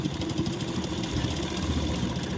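An electric sewing machine runs steadily while stitching the reverse side of a princess-cut blouse, giving a continuous close mechanical whir and hum with no pauses.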